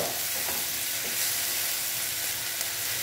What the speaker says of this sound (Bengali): আমি বেশি ভাজবো না, তেতো হয়ে যেতে পারে, সর্ষে আছে তো